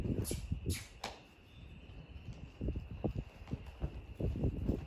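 An old cold-blooded horse's hooves clop on the ground in an uneven walking rhythm during a first ride, a short pause partway through, then several more thudding steps close by.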